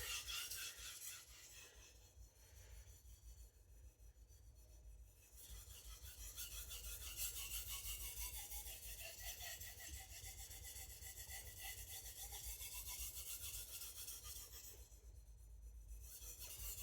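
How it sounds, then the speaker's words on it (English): A chef's gyuto knife draws back and forth across a soft whetstone with steady pressure, a continuous close rasping scrape that pauses briefly near the start and again toward the end. "I'm also learning to sharpen my edges again on this, keeping consistent pressure"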